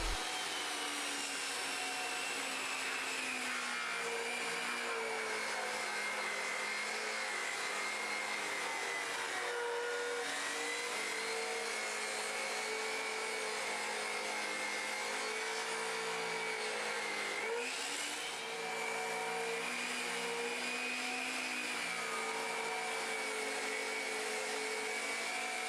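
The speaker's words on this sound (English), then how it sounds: "Now I can use that straight edge to further rip down the strips." Power saw ripping plywood into strips along a straight edge, a steady loud whine that dips briefly around the middle and again near the end before resuming, with no voices.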